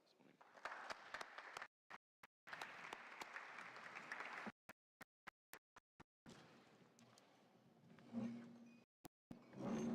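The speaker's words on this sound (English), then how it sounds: "please once more give a round of applause for our speakers" Conference audience applauds its speakers, the clapping coming in uneven bursts broken by abrupt silent gaps, then fading into room noise and scattered sounds.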